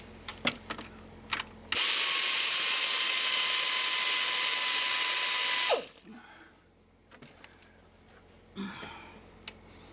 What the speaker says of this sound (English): And loosen these clamps up.